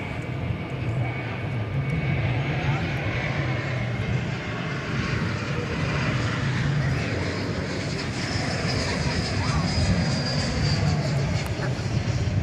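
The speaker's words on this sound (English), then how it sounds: "It's Airbus A321 coming in from the City of Angels" American Airlines Airbus A321 arriving from Los Angeles at DFW Airport at night, a sustained broad engine rumble and whine that swells and lingers, with faint talk over it.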